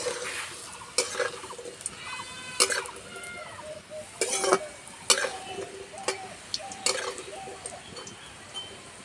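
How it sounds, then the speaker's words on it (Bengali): Besan (gram flour) pakora pieces frying in oil over an outdoor wood-fired clay stove, a soft sizzle punctuated by repeated clinks and scrapes of a stirring utensil against the pan, with some faint voices in the background. "বেশি ভাজবো না, হালকা লাল করে ভেজে নেব।"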